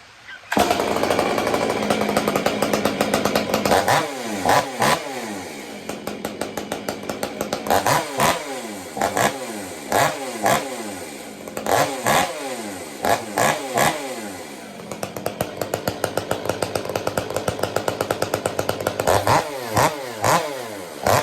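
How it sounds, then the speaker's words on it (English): A ported Stihl 500i chainsaw fires up and revs hard in repeated bursts, loud and close, with sharp rising and falling engine sweeps and brief idle dips between throttle blips, no talking. "Let's get her fired up."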